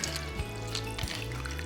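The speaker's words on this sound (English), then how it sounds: "Gonna add just a little bit of water to go in it." A small amount of water trickles and pours into a pot of vegan beef-style stew with noodles, a soft steady liquid stream heard alone at low volume.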